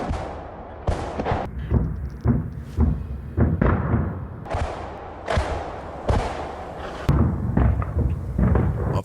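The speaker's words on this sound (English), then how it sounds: "Mission begins when a Ukrainian Grad unloads a full pack off 122mm rockets" A Ukrainian Grad multiple rocket launcher firing a salvo of 122mm rockets, a rapid series of loud booming launches with whooshing tails, repeating roughly every half second to second over several seconds.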